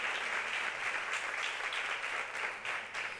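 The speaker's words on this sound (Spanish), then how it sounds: "Les voy a pedir un fuerte aplauso también para todas ellas." Audience applause at a Tarde Violeta event for International Women's Day, a steady broadband wash of many hands clapping together, sustained and fairly even throughout, heard from a moderate distance with no talking.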